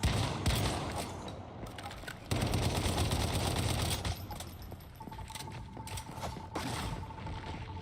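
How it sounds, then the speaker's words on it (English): Rapid bursts of video-game gunfire rattle almost continuously, loud and close, with mechanical clatter mixed in and no voices over it. "I think this one I might need to shoot"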